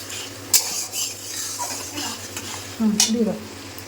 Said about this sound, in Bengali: এখানে হচ্ছে মাটনের মশলাটা কষানো হচ্ছে